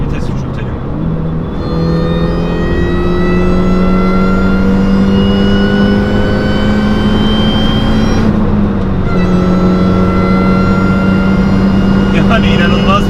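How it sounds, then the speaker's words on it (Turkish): A Mini John Cooper Works GP's engine revs high after a downshift, its steady loud drone climbing in pitch with a brief dip around a gear change, while someone talks over it. "Mesela bir vites küçültelim."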